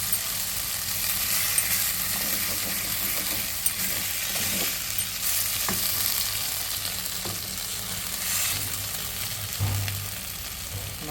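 Ivy gourd poriyal fries in a pan with a soft, continuous sizzle, broken by a few faint clinks and knocks of utensils.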